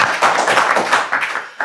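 Applause from a studio audience on a music interview show, a steady dense patter of clapping that carries loud and close for the full stretch, with no talking over it.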